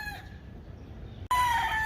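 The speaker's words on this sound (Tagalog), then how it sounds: "Ibang klase yung manok dito. May accent." A rooster crows on a farm property in the Philippines, a loud, close crow cutting in abruptly after a quieter stretch of faint outdoor background.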